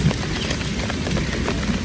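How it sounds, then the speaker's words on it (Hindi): Steady rain falling and pattering on a surface nearby, a continuous soft hiss with a few louder drops, heard alone without talk. "यहाँ से बारिश ना बड़ी खूबसूरत लगती है"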